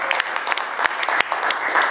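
A conference audience at a Catholic panel breaks into applause, a dense, loud wash of many hands clapping close by with no talk over it.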